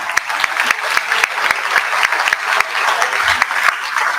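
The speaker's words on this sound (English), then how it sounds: "So can we give a round of applause to my grandma?" Audience applause at a live real estate partnership event, steady dense clapping from a crowd throughout, fairly loud and close, with no talking over it.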